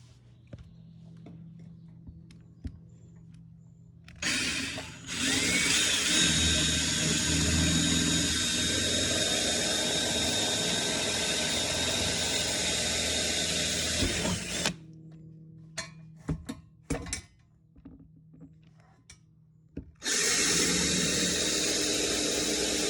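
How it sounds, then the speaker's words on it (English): A power drill with a 1/2-inch bit bores holes during an offroad jack install on a Can-Am Defender 6x6, whining loudly in two long, steady runs separated by quieter clanks and handling noise. "We just used a 1/2-inch drill bit."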